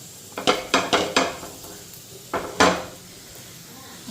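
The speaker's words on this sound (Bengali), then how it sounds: "তো ওইদিকে আলু পরোটাগুলি ভাজা নিতেছি" Aloo paratha cooking in a pan: a series of sharp metallic clatters and scrapes of a spatula against the pan, four in quick succession, then two more after a pause, over a soft frying hiss.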